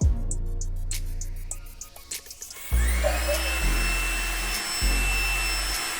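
A Trifo Lucy robot vacuum cleaner starts up indoors after some brief clattering. Its steady motor whine and brush hum then run close and loud, with a few faint thumps and no talking.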